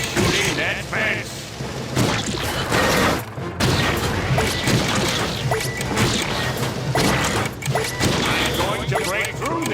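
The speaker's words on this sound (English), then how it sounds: "I must keep shooting that fence." Rapid shooting and crashing impacts as a fence is blasted in a SpongeBob video game, loud and continuous, with a voice speaking over the racket.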